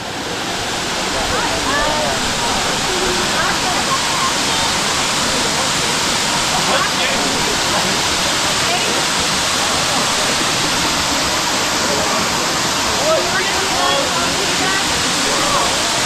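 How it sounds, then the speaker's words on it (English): Erawan Falls in Thailand pours down its tiered cascades, a loud, unbroken roar of rushing water heard close for the whole stretch, with people talking over the constant wash. "You can understand why it's the most beautiful waterfall in Southeast Asia."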